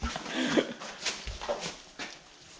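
Shop puppy at an automotive shop whimpering after losing its ball, a few short high whines and yips, faint and close amid background noise.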